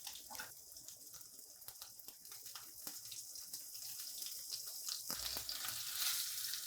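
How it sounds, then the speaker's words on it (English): Pecan-crusted white fish sears in hot oil with fresh thyme in a pan, giving a soft, steady, close sizzle that builds slightly louder toward the end, with scattered small crackles and a brief clatter. "Now, while my fish is searing off"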